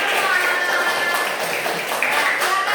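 Classroom applause rings out as a steady, dense patter of many hands clapping together for nearly three seconds, loud and close, with a few brief voices mixed in.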